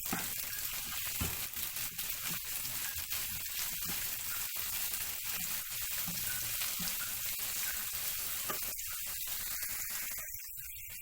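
A small onion fries in a pan for wheat noodles, giving a soft, even sizzle throughout with a few faint stirring touches before it drops away at the end.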